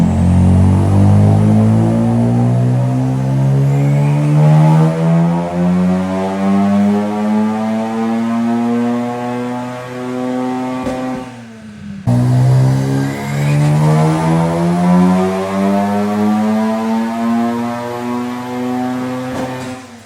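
A tuned Mazda RX-7 FD engine making about 350 horsepower revs hard on a dyno, steadily climbing in pitch, dropping briefly, then winding up again, loud and close, with no talking.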